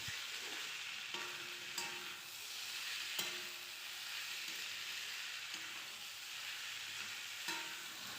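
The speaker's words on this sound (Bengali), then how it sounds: "ভালো করে ভেজে নেব সবজিগুলির সাথে যাতে মশলাগুলি ভালো করে মিশে যায়" Vegetables and spices for a paneer dish frying in a pan, a steady close sizzle with occasional scraping knocks from stirring, no voices.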